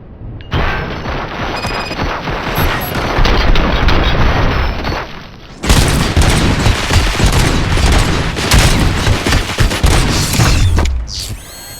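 Heavy, continuous gunfire in RoboCop: Rogue City, loud, dense bursts with mechanical clatter and booming impacts filling nearly twelve seconds and pausing briefly midway.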